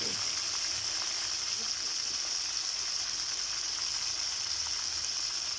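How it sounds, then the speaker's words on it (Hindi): Chicken pieces and onions fry in a pan for an aloo chicken dish, giving a steady, soft hissing sizzle that holds evenly throughout without a break. "चिकन और प्याज नाल फ्राई करते हैं।"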